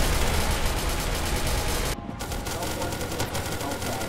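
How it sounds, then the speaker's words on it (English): A shotgun fires in SCP: Secret Laboratory amid dense, continuous gunfire, loud and close, with a brief dropout midway before the shooting resumes. "Shotgun."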